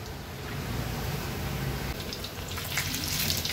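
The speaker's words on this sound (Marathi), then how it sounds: "हे बघा, ह्या तेलामध्ये थोडा थोडा आवाज यायला लागलाय" Cheese balls deep frying in hot oil give a steady, close sizzle with fine bubbling crackle that grows brighter and busier toward the end.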